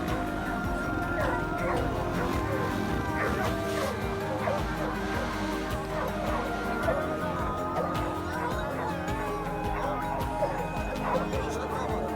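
Hunting dogs bark and yip continuously while chasing wild boar in open country, with pickup trucks or motorbikes following close behind; the barking is dense and steady throughout, layered with people talking and some laughter.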